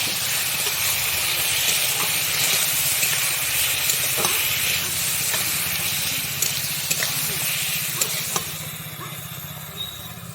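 Mushrooms and potatoes sizzle and steam in a pan after a splash of water, a steady broad hiss with faint stirring clicks throughout.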